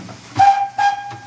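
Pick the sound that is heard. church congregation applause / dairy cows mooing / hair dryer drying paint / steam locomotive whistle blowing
steam locomotive whistle blowing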